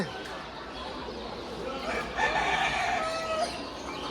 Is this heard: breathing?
no